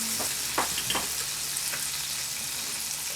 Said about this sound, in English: I'm just going to add some rosemary just to flavor the pan. And a little bit of unsalted butter.